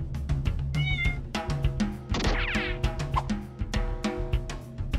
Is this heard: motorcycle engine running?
no